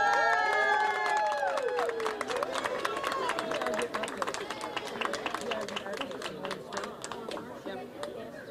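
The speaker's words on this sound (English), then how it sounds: "I want some applause for Hank." A crowd at an Ann Arbor rally on legalizing gay marriage breaks into sustained clapping and cheering after a voice speaks, the applause growing into a steady patter of many hands.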